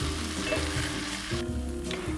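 Beef searing in a pan for stroganoff, a continuous dense sizzle with a few rhythmic scraping pulses, close and loud with no one talking.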